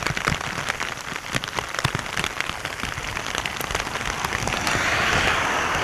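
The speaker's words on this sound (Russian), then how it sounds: "Опять град долбит." Hail beats on a vehicle in a downpour in Alaska, a dense, steady rattling patter of hard hits with sharper knocks, swelling slightly louder toward the end, with no talk.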